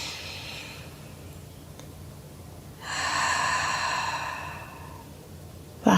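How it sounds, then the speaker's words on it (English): A woman doing prenatal Pilates releases a long, slow, audible exhale through the middle of the quiet stretch, followed by a short sharp breath at the very end. "Two more deep breaths."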